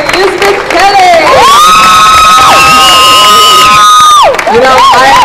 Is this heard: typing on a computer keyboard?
no